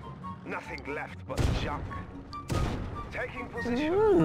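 Tank destroyer cannon fire in Yuri's Revenge, the real-time strategy game: two loud, booming blasts land about a second apart over battle noise and game effects, while someone talks throughout.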